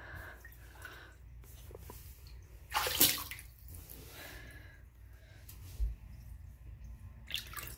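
Water sloshes faintly in a bathtub, with one sharper splash midway and a few softer ones later, along with light breathing sounds.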